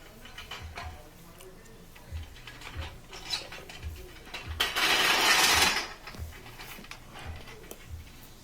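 Screws are tightened on the heating element of a Maytag electric dryer, giving soft, close ratcheting clicks and small mechanical ticks with short pauses between them, plus one brief louder rasping burst in the middle.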